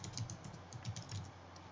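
Quick, light clicking of a computer keyboard as a short search is typed, faint and close, with no voices.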